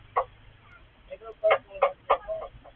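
A chicken clucks in a short series of sharp, close calls during heavy rain in Tabaco City, Albay.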